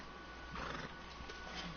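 A horse in Red Dead Redemption 2 gives a brief, faint neigh and whinny, quiet against game background sound.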